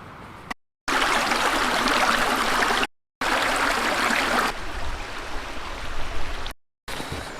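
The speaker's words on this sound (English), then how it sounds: "Found the stream." A stream flows through woods in Llangollen, Wales, its steady rushing hiss close and fairly loud, broken by a few short gaps, with no voices.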